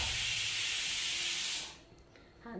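A pressure cooker vents a loud, steady hiss of steam for a second and a half, then cuts off, leaving faint clinks and rustles.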